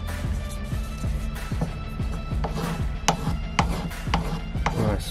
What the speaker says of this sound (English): Now I might just use the sandpaper.